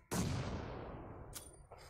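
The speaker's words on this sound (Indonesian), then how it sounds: "Ada bom lagi." Red-zone bombing on the Erangel map in PUBG: a sharp, loud blast with a long rumbling decay, followed by a second, fainter distant boom.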